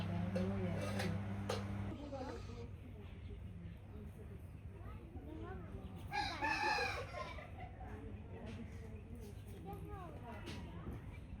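A rooster crows loudly near the middle while chickens cluck around it in a village yard, with people talking throughout.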